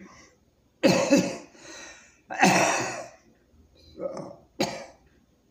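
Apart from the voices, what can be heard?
coughing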